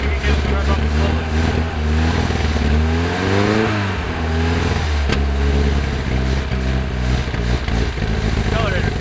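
A carbureted supercar engine on a project car revs up slowly with a rough, uneven rise and fall in pitch. The engine sounds loud and close and runs under the whole stretch, and people can be heard talking over it.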